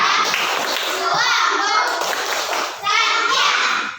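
A classroom of children performs a rhythmic chant with clapping. Loud young voices and quick hand claps come in two bursts.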